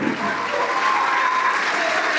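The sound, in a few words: congregation applauding in church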